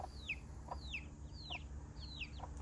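Hens clucking nearby in a series of four short, sharp calls spaced about half a second apart over a low steady background hum.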